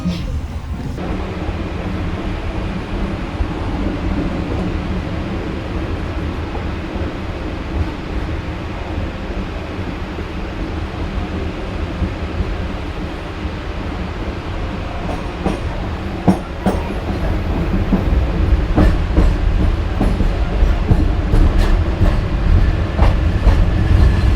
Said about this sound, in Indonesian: kereta api komuter lain Penataran telah tiba